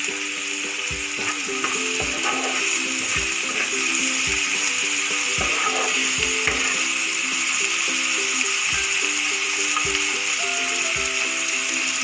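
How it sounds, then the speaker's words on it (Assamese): A potato mixture sizzles in oil in a pan while a utensil scrapes and stirs it in regular strokes, a steady frying hiss under the repeated scraping. "মই এইখিনি এতিয়া অকণমান লৰাই দিছোঁ"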